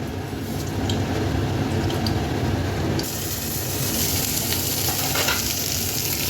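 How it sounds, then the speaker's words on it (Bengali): Dried red chilies with white and black mustard seeds frying in hot mustard oil in a kadai, a steady loud sizzle that brightens and intensifies partway through, with no talking. "আমি একটা কড়াই বসিয়ে নিয়েছি, দিয়ে দেবো সর্ষের তেল, দিয়ে দেবো তাতে শুকনো লঙ্কা আর সাদা সর্ষে, কালো সর্ষে"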